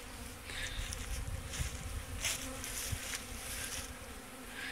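Swarm of honeybees buzzing steadily on orientation flights outside a newly installed package hive, a dense continuous hum close by with no talk.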